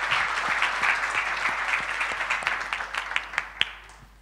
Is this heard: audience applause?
yes